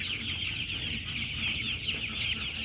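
Chickens in a shed, after their second Gumboro vaccine, eating feed: a dense, steady mass of high chirping and clucking with no pauses and no talk.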